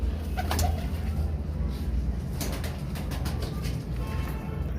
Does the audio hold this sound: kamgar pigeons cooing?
yes